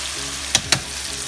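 Eggplants fry in a pan under a constant close sizzle, with two quick scraping stirs cutting through the hiss in fast succession.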